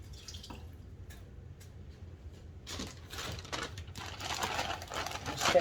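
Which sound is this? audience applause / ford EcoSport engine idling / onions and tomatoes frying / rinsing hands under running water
rinsing hands under running water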